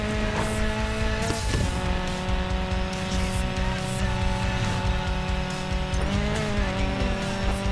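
Race cars in a Need for Speed Payback street race, engines roaring continuously and loud with gear-shift pitch changes and tire squeal, no talk over them.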